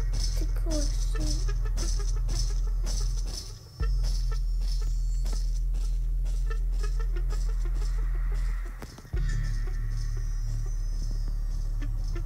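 Ambient bird calls in the Roblox horror game Doors, clucking, fowl-like chirps over a loud steady low hum, with footstep-like ticks throughout and two brief dropouts in the hum.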